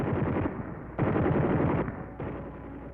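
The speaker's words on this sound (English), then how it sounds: "Machine guns are loaded with ammunition." Aircraft machine guns on P-47 Thunderbolt fighters being test-fired by ground crew in 1943, a loud continuous burst of rapid automatic fire that drops briefly and resumes in several sustained stretches, alone without talk.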